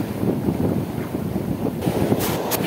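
Rough whitecapped waves breaking near a small fishing boat at sea, a continuous loud rushing wash mixed with gusting wind buffeting the microphone, no voices.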